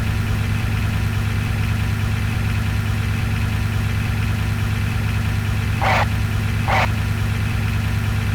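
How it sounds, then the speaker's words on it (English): A Humvee engine from Command & Conquer: Renegade drones steadily at low pitch, close and constant like a vehicle idling or cruising, with two brief higher bursts of noise partway through. "Take the Humvee around the entire track to complete the next objective."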